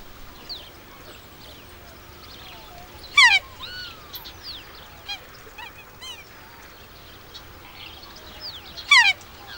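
A male black swan calls in its territory in Tasmanian woodland, giving loud bugling honks in two bursts several seconds apart, with fainter scattered bird calls between them.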